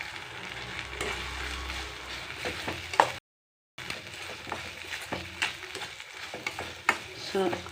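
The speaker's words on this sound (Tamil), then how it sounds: "இப்போ அடுத்தது நம்ம கோவக்காய் எடுத்து போட்டுக்கலாம்." Ivy gourd pieces tossed into hot oil and sautéed, sizzling and crackling close by with repeated stirring scrapes and knocks, and a brief silent break partway through.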